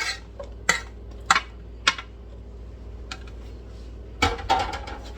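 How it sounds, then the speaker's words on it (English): Mushrooms drop into a pan of softened, melting butter, giving several separate sharp clacks and taps spaced out over a few seconds, then a denser cluster of clattering near the end against a quiet background. "Put the mushrooms in."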